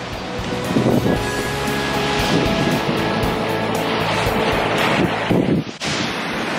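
Ocean surf rolls onto a beach in a steady loud wash of breaking waves, layered with gusty wind buffeting the microphone, continuous and close throughout.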